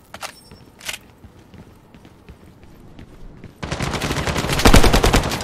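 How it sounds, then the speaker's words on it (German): Bursts of gunfire from outside in the video game Lost Light, a couple of faint distant shots early on, then a dense, louder rapid volley in the last two seconds. "Nochmal Schüsse von draußen."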